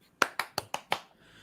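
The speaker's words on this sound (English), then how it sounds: "I don't know how the rest of the song goes, so I just clap." Five crisp hand claps in an even quick rhythm, close and fairly loud, then a faint room tail.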